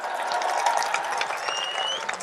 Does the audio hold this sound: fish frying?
no